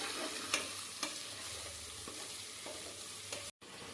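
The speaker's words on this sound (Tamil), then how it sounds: "அடி பிடிக்காம கலரி விடுவோம்." Chicken, tomato, green chilli and mint being stirred in hot oil, steady close sizzle with a few scraping spoon strokes and a brief break near the end, no voices.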